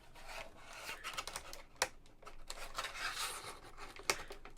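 Plastic packing bits being pulled and rubbed off a Toy Biz Marvel Legends Bullseye action figure, giving faint close crinkling, scratchy rubbing with two sharper snaps.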